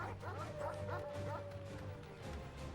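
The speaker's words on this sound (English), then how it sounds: "Oh no, angry dogs." Angry dogs bark and yip in Final Fantasy XVI, short repeated barks in quick succession over continuous game music and battle noise.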